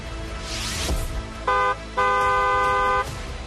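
A car horn sound effect honks twice, first a short toot and then a longer sustained blast, loud and close over a low background rumble.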